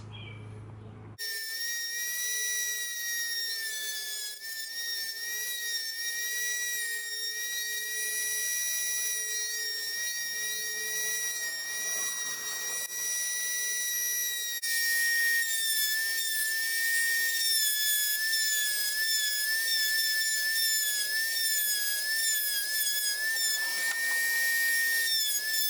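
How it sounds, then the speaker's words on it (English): A rotary tool fitted with a sanding drum smooths the cut edges of custom headlight pieces for a Lexus GS300/GS400, a steady high whine running close and loud throughout with shifting pitch as it bites into the plastic, no talking. "I'm going to use this tool here, and I'm going to sand all that down so it's smooth"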